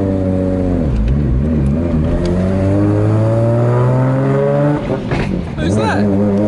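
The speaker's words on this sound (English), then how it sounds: "we're in the GTR guys. And she's just going to go for a little cruise in it" A street-legal Nissan R34 Skyline GT-R making about 1000 hp at the wheels, with a sequential gearbox, revs loud and close on a cruise, its engine note climbing steadily before a brief dip at a gear change and then pulling hard again.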